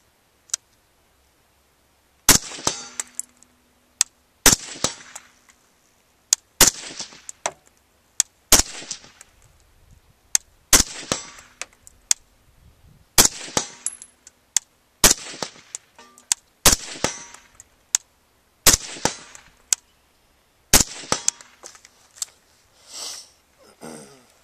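Sharp gunshots from a BCM 11.5-inch short-barreled AR rifle fired at steel, around fourteen loud cracks spaced one to two seconds apart, some followed by a faint ring from the steel target.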